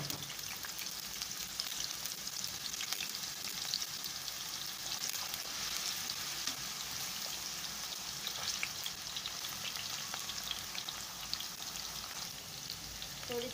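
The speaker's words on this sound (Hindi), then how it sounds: "चिप्स बनाने लगी हूँ।" Potato chips frying in hot oil, a dense, continuous sizzle with crackling pops that holds steady and close throughout, with no talking over it.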